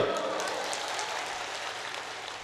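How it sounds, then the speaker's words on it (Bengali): Loud, dense clapping from an audience at a motivational talk, a steady broadband wash of many hands that holds for the whole moment and fades slightly toward the end. "ওর জন্য এটা করে তালি দাও জোরে"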